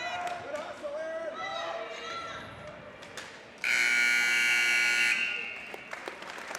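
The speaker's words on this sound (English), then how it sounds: "Buzzer goes." A loud, harsh electronic buzzer sounds at an ice hockey rink during a state semifinal game, blaring steadily for about a second and a half amid arena crowd noise and a commentator's voice.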